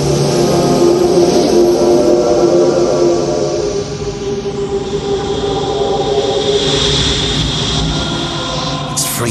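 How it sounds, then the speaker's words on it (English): Steam, gas and dust venting from geysers on an icy comet: a loud, continuous roaring hiss over a deep rumble, steady throughout. "look at all this steam, the geysers and dust"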